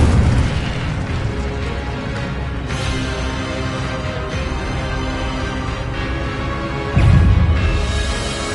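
An Incendio fire spell cast in a Harry Potter video game: a dense, steady wash of loud magical combat noise with a heavier booming burst near the end.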